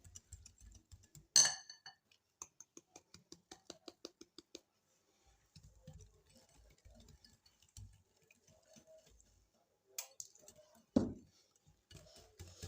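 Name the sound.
mixing sugar into cake batter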